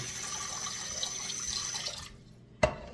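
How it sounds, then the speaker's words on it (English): Water runs from a tap into a pan in a home kitchen while cream puffs are made, a steady moderate stream that stops abruptly, followed by a single sharp clink, with no talk. "So I'll put some water in."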